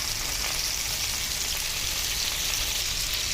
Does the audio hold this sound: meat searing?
yes